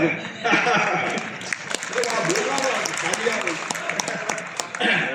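Audience applause at a mushaira poetry gathering, a dense, sustained wash of clapping from a large hall crowd that swells and holds throughout, with voices mixed in.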